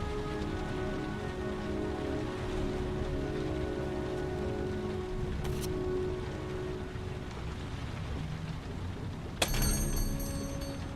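Rain falling steadily in the video game Heavy Rain, a dense continuous patter on surfaces with a low hum beneath, one sharp click near the end and no speech.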